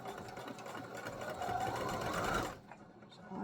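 A home sewing machine top stitching around a holiday sewing project runs in a steady whirring burst for about two and a half seconds, close and fairly loud, then stops abruptly.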